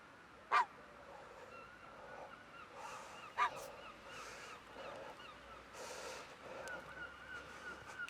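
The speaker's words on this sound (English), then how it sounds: "It's one of the younger goslings." A young gosling gives two short, sharp honks a few seconds apart, fairly faint, against a quiet outdoor background on a seaside walk along the Dawlish sea wall.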